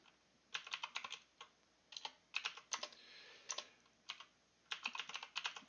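Names are typed on a computer keyboard in quick bursts of crisp key clicks, separated by short pauses, close up and fairly quiet in an otherwise silent room.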